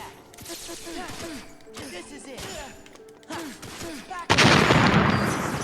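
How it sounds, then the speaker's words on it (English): Rapid popping gunfire and blasts crackle from the video game Kingdom Hearts 2, ending in a loud, sustained explosion roar. "look at explosions"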